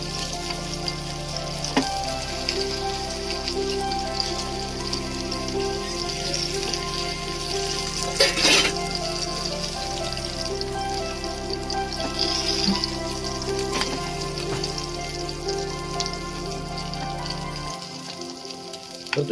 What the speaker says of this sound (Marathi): तर तुम्ही बघू शकता पुरेसं तेल आहे, तर त्याच्यातच आपल्याला फ्राय करून घ्यायचं आहे.